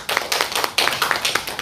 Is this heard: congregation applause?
yes